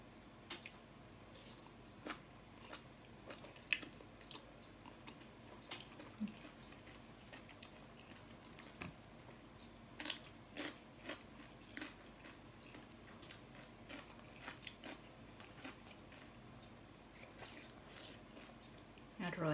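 Close, wet chewing and crunching of a spicy cucumber papaya salad with salmon and mushrooms, soft irregular bites and squishes spread through the quiet clip.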